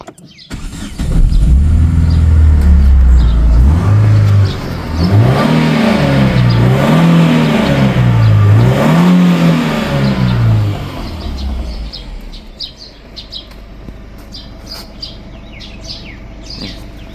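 A car engine fires up close and loud, then is revved in several rising and falling surges before settling into a quieter idle while birds chirp in the background.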